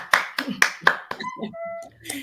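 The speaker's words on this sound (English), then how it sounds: "for madam, we are clapping with big hand" Hands clap at a conference on women's empowerment: four sharp, evenly spaced claps ring out close by, followed by a voice speaking.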